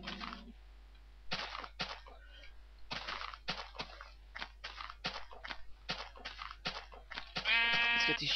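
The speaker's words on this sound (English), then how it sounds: "Let's get these sheep." Sheep bleating in the Minecraft video game, several short wavering bleats heard near the end amid a stretch of clicking, crunching and tapping sounds.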